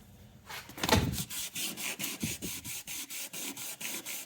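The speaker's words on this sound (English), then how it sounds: "You absolutely have to wet sand this so you don't take all the color coat off." Fine-grit sandpaper scrubs back and forth by hand over the painted body of a Chevrolet Monte Carlo SS, a close, rhythmic rasping of about a dozen quick, even strokes with brief gaps between them.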